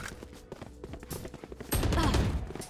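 Gunfire in a video game: faint scattered shots and game noise at first, then a louder burst of shooting in the second half, with muffled voices in the mix.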